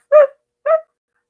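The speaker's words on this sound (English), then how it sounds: "a dog in the distance began barking" A dog barks twice in the distance, two short, clear woofs about half a second apart, with silence around them.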